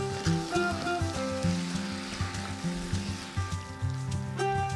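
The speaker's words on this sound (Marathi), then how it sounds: "चांगलं ना हे परतून घेऊया।" Fresh green peas with salt are sautéed in a pan, giving a soft sizzle beneath a louder, steady tonal drone with a rhythmic melodic pattern.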